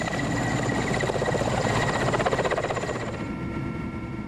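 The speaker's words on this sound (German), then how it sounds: "Wie aus dem Nichts landete der Hubschrauber." A helicopter lands in the tundra of the Yamal region with a loud, steady rotor thrum and engine whine that fades slightly toward the end.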